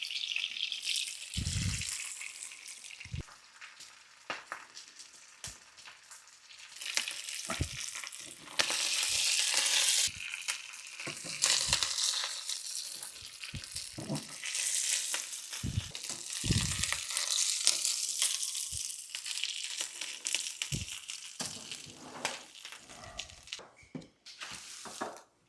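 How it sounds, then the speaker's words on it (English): Taquitos fry two at a time in oil in a skillet for a budget freezer-and-pantry dinner, giving a steady loud sizzle and crackle throughout with occasional sharper pops and utensil knocks, no talking. "Let's get some oil in there. We'll get these taquitos cooked."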